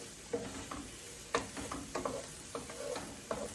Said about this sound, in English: whisk in flour to make like a roux kind of thing.